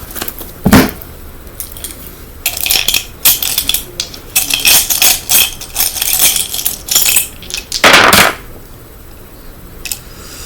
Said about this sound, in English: Roll dice.